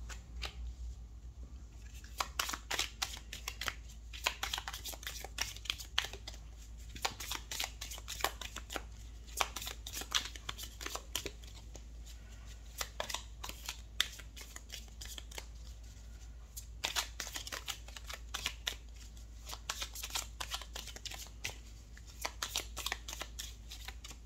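Tarot cards are shuffled over and over in quick riffling bursts, a dry papery flutter that comes in waves with short pauses between them, close and fairly quiet, with no talking.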